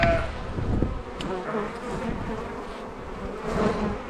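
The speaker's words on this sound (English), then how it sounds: "There are bees in here." Honeybees buzz in a hive during winter, a soft, continuous drone of many insects close by with occasional louder passes, with no talk.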